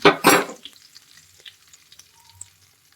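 Asafoetida frying in a pan starts with two loud bursts of sizzling and stirring right at the start, then dies down to faint crackles and light scrapes.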